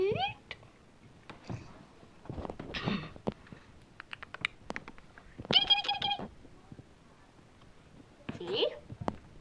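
A cat meows while following a trail of treats, giving several short, separate meows close by at modest volume, with quiet pauses and faint soft rustles between calls.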